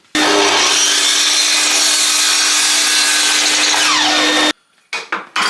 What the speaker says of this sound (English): now I am going to cross-cut some of these to 460